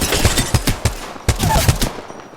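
Distant gunfire from another squad's fight in Apex Legends, rapid automatic bursts and scattered shots crackling in uneven clusters, moderately loud with no talking over it.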